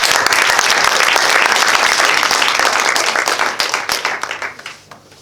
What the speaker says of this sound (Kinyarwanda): Kaduhe Imana amashyi.